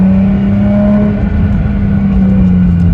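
A 2JZ-engined Toyota Soarer exhaust drones loud and close, a steady deep rumble with a held engine note throughout.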